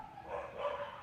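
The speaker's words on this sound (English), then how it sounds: "if you hear dogs barking downstairs" Dogs bark downstairs in a house, faint and muffled by distance, in a short burst of a few woofs with no talk over them.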